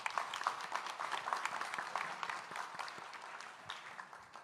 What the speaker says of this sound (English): A round of applause for Thierry.